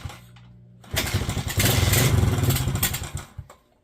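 An old Kawasaki KLX 110 dirt bike that sat unused for years kicks into life after a quiet moment, then runs loud and close with an uneven, rising and falling engine note for a few seconds before cutting out.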